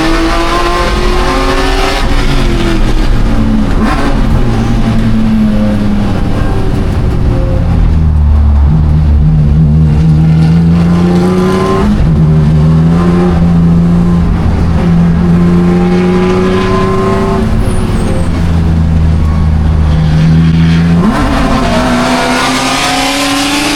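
Race cars, including an all-wheel-drive Subaru and a Jetta, accelerate hard off a green-flag start at Autobahn Country Club: loud, sustained layered engine roar with rising revs and gear changes throughout.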